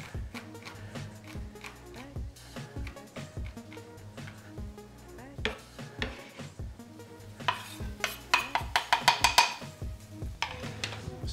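Garlic being roughly chopped with a knife on a board in a home kitchen, a quick run of crisp, close taps that speed up into a dense rapid burst toward the end, with a few scattered clinks of pans and utensils.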